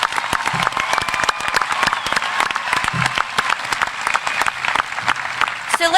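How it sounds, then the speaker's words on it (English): A large high school graduation crowd applauds the graduating seniors, many sharp hand claps in a lively, sustained patter with some cheering and whistles, heard fairly close, with a voice briefly over it. "Could we give our seniors a round of applause?"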